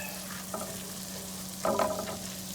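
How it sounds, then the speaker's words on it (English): Garlic frying in a pan for a garlic and mushroom pasta gives a steady, moderate sizzle, broken by a few short stirring scrapes near the end. "I love the smell of garlic when it starts heating up."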